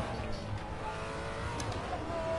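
A race car engine in a racing video game holds a steady high drone through a short stretch, with faint voice sounds underneath.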